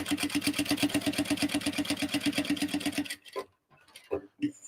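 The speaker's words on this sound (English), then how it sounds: "So I'm just kind of sewing a couple of inches along." A sewing machine runs steadily for about three seconds, stitching a tote bag lining with a fast, even needle rhythm, then stops, leaving brief handling clicks and a few soft knocks.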